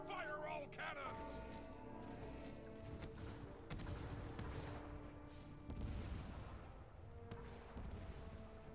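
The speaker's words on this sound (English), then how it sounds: "Fire all cannons." A ship's cannons fire in Guild Wars 2 PvP: a few heavy booming shots rise out of a busy battle din, near and fairly loud, with voices talking over parts of it.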